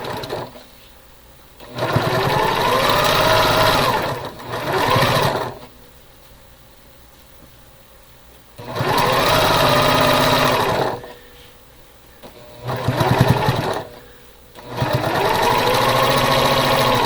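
A sewing machine stitches quilt pieces together in several bursts of steady, close whirring motor hum, each lasting a few seconds and separated by short quiet pauses.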